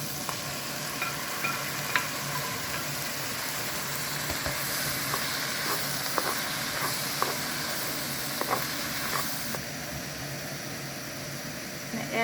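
Chopped peppers and tomatoes frying in a pan, a steady loud sizzle and hiss with scattered stirring clicks and scrapes, close and continuous.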